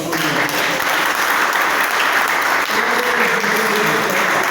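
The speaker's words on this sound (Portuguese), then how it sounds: "Vamos dar salva de palmas para ele." A congregation at a church prayer centre gives a round of applause, a thick, sustained crackle of many hands clapping, loud and unbroken for several seconds, with faint voices mixed underneath.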